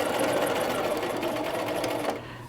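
A sewing machine runs continuously while stitching a skirt facing, giving a loud, close, steady whirring hum that holds for about two seconds before cutting off abruptly, with no talk.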